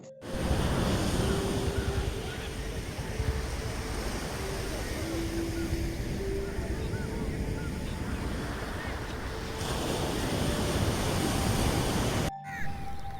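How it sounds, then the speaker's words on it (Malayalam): Calm sea waves wash onto sandy Munambam Beach in a steady, unbroken hiss of surf, with gusty wind noise on the microphone throughout. "വൃത്തിയുള്ള പഞ്ചാര മണൽത്തരികളെ ശാന്തമായ തിരമാലകൾ പുണരുന്ന കാഴ്ചയാണ് നമ്മളിപ്പോൾ"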